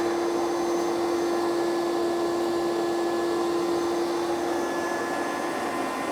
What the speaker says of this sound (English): I completely filled my dust collector with the cedar wood shavings